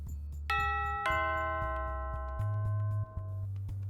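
A front doorbell rings with two clear chime tones a half second apart, their notes ringing out and fading over a low background hum, with no talking.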